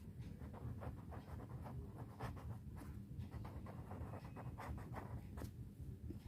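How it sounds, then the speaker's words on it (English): Pen writing on paper during an accounts lesson, a quiet run of soft scratching strokes with short irregular pauses, close and faint, with no speech. "Let's write."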